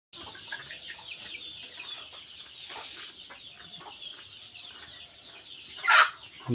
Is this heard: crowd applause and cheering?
no